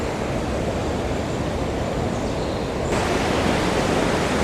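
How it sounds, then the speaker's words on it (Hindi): High-pressure water rushes beneath a wooden bridge in Dumnaga Valley, Neelam Valley, Kashmir: a steady, loud, close broadband roar with no pause, growing slightly louder partway through. "भाई पानी का प्रेशर बहुत ज़्यादा है"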